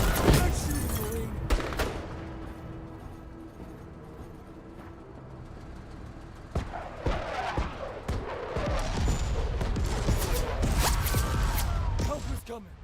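Scattered bursts of gunfire from a military shooter video game crackle through a busy battle soundscape, with sharp shots near the start and denser firing later, under game voices.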